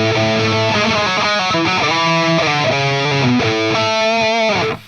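A guitar with a distorted, effects-heavy tone plays a major scale, sounding clear and loud as a stepwise run of sustained single notes that cuts off abruptly at the end.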